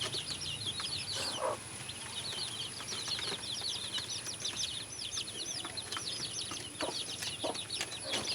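Chickens cluck and chirp in a backyard poultry farm, the calls soft and somewhat distant, scattered over steady faint ambient noise.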